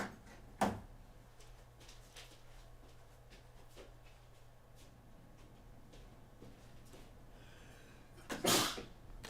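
A single sharp sneeze bursts out close to the microphone near the start, with another loud burst near the end, over a quiet room hum and faint game sounds.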